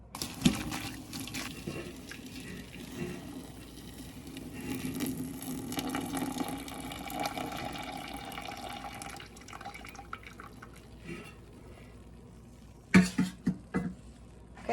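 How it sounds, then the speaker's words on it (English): Hot water is poured from a kettle into a jar for water bath canning, a soft continuous trickling and splashing at close range, ending with a few faint knocks, with no talking. "kettle of hot water. I will pour that in there"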